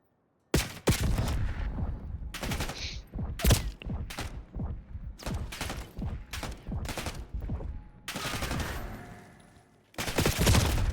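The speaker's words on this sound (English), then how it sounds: "Shoot me twice with the pistol." Pistol fire in the video game Call of Duty Black Ops 6 during ranked play: loud, sharp shots come in an irregular string of single cracks, closing with denser bursts of gunfire and impacts.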